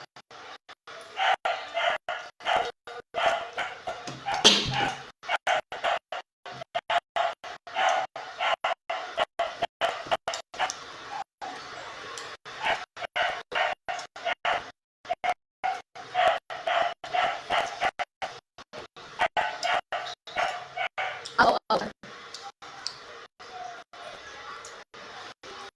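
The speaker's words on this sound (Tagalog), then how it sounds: "Ang ingay ng aso natin eh." A household dog barks in rapid, repeated bursts that run through the whole stretch, close by and fairly loud.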